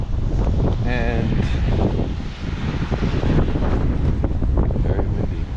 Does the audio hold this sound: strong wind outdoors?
yes